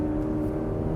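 A 2025 Toyota GR86 Hakone Edition boxer engine drones loud and close, a sustained high-revving tone held steady for a moment near redline.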